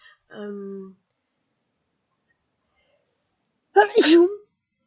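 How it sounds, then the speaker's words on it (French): A brief voiced inhale comes first, then after a pause of silence one loud, sharp sneeze bursts out close to the microphone. "du coup vous aurez mon éternuement"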